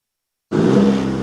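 A 2023 Chevy Silverado's 2.7-liter high-output turbo engine bursts in after half a second of silence, a loud, steady turbocharged rev with a deep rumble that holds for the rest of the clip.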